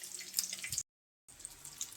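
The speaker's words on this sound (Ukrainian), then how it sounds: "Зараз зливаю воду, буду додати до сала." Water from a pot of boiled young potatoes is poured off into a sink, a faint trickling splash that stops abruptly for a moment and then resumes.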